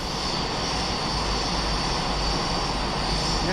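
Boeing 747 jet engines in the X-Plane 11 flight simulator give a steady, loud roar with a constant droning tone, unbroken and free of any voices.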